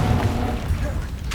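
A Confringo spell from Hogwarts Legacy lands with a short, deep booming burst, loud and close, ending in a brief bright crackle.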